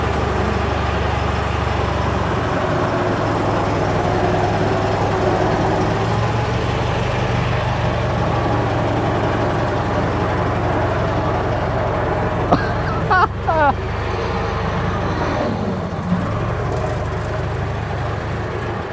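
A Ford Model T engine runs steadily while the car backs out, a close low rumble that continues throughout, with a few brief clanks and knocks near the end.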